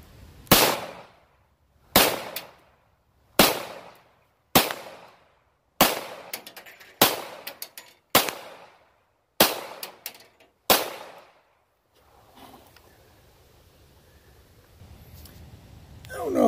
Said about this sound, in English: So, here we go with 9 more shots.